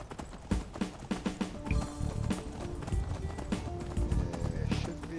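Horse hooves clip-clop in the Skyrim video game, a busy run of clattering footfalls over a dense mix of game music and ambience, with occasional whinny-like tones; no one talks during it.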